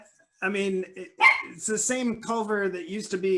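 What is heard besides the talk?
dog barking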